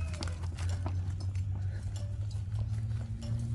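An Arabian mare's hooves clop in a quick, regular rhythm during training with a bit, moderately close over a low steady rumble, with no talking.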